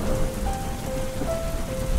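Steady rain falling on a surface as a textured backdrop in a hip-hop beat, with faint tonal notes drifting over the continuous patter.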